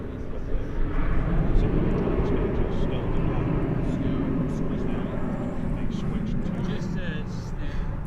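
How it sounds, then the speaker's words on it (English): An American Airlines jet departs DFW Airport in the evening, its engines a steady, broad roar heard from some distance throughout, while a voice speaks quietly over it. "There goes American Flight 1599."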